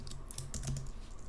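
Fast typing on a computer keyboard, a close, quick run of light key clicks with a few heavier strokes.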